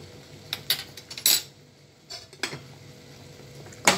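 Cooked yams are lifted out of a pot for a yam stew, heard as scattered light clinks and scrapes of a utensil against the pot, with soft bubbling beneath and some quiet gaps.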